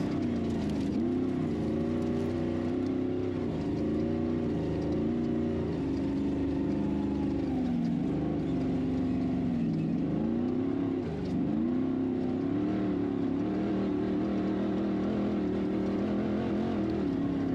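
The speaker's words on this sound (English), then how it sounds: "I can hear her car. That's her passing right there." An Ultra4 off-road race car at a desert race in Laughlin passes by with a loud, steady engine roar that rises and falls in pitch, close and continuous throughout.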